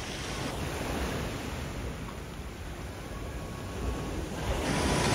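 Sea waves breaking on the beach at Adler after a storm, a continuous loud roar of surf with wind buffeting the microphone, swelling toward the end.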